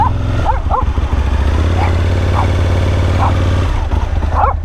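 Beavis the dog barks repeatedly, a string of sharp close yaps spaced irregularly over a loud steady motorcycle engine idle.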